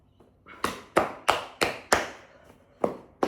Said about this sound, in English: use your palms of your hand to clap with the sole of your feet